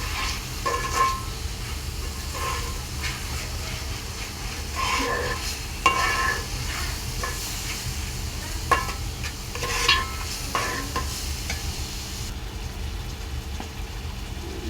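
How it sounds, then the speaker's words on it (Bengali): Spices fry in a pan as the base for a bacha fish curry, giving a steady low sizzle with scattered sharp ticks and scrapes of stirring and no talk. "এখন আমি এখানে মশলাগুলোকে ভালো করে ভেজে নিব"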